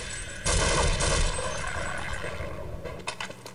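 Gunfire rings out while enemies are shot in the video game Half-Life: a loud sustained burst of shots up close that slowly fades, followed by a few sharper clicks and impacts near the end.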